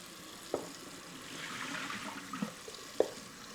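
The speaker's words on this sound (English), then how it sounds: "Cover it with some more water." Water from a tap runs over potatoes being rinsed in a bowl, a soft faint gush with a few small clinks and knocks of the potatoes.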